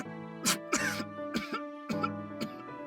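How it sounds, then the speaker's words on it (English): A character in the video game What Remains of Us chokes and breaks into heaving coughs, with five or six sharp, close bursts and throat-clearing hacks over a steady low musical drone. "Stalby chokes on air which quickly devolves into heaving coughs"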